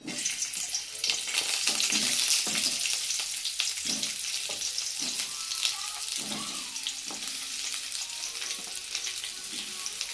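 Onion sautés in oil with a continuous close sizzle, overlaid by intermittent stirring scrapes and clinks.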